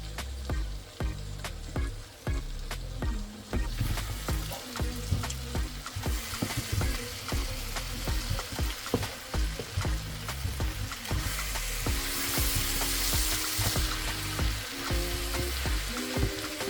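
Cooked rice and scrambled eggs being stir-fried together in a hot pan for fried rice, a steady close sizzle with repeated scraping and tossing clatters from the utensil throughout, no voices.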